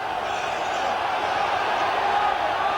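A rugby crowd at a 1993 England Emerging versus New Zealand test match roars steadily in a continuous broad wash of noise, fairly loud, with no distinct peaks.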